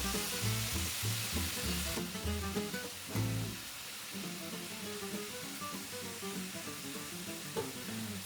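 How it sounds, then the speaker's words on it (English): Cod fillets are returned to a pan of cherry tomatoes and garlic with a splash of wine, a dense steady sizzle with rhythmic clattering stirs early, then softer even frying. "And I'm going to add the fish now, back in with the tomato."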